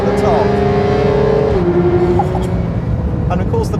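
A Porsche 911 GT3 engine revs hard to 9,000 rpm, a loud, sustained rising wail heard close up, then a brief dip as the gearbox shifts and the note picks up again.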